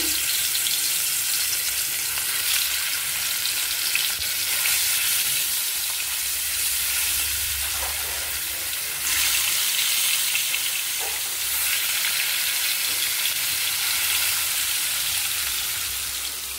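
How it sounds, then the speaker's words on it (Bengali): Fish fries in a pan with a dense, loud, steady hiss and crackle lasting over sixteen seconds, swelling slightly now and then, close by and with no voices. "আর এখন এই যে মাছটা ভাজবো"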